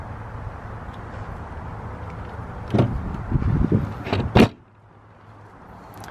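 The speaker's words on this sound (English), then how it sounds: "Slide out tray, that's kind of nice." A slide-out storage tray in the front storage compartment of a Backcountry Series Mountain TRX 20BD travel trailer is pulled out, giving a short scraping slide followed by a sharp knock and clack as it stops, then quiet.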